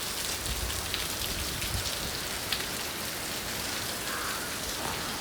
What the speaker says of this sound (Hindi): तो ये देखिए बारिश का हाल, मस्त बारिश हो रही है